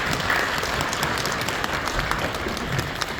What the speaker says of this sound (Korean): 환영하며 박수 한번 해주시죠